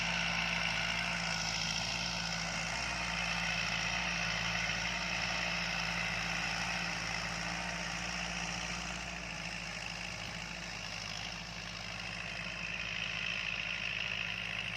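Kubota L5018 tractor engine running while turning during corn planting, a continuous mid-pitched engine drone with a steady low hum, dipping slightly partway through, no talking.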